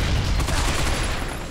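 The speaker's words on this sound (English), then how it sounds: "It's the first time that I'm actually going ahead and using the Bosonic Blast" Heavy, sustained energy-weapon fire from the Bosonic Blast in the video game Binary Domain, a dense continuous roaring burst that stays loud and close for its whole length with no speech over it.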